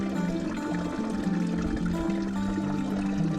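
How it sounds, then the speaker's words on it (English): Runoff water cutting a deep hole through a bank in spring wilderness, a steady rushing, pouring flow heard close and continuous, with no talk over it. "this water is cutting a hole through the bank"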